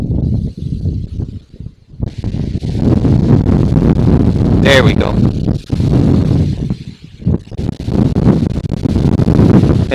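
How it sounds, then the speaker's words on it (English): Strong wind buffets the microphone outdoors in a steady roaring rumble with gusty surges, and a person speaks briefly over it. "It is crazy windy."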